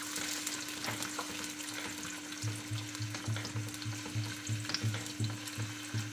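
Steady sizzling of chopped onions frying in a hot pan, a constant crackle with a low rhythmic thump underneath and no voices.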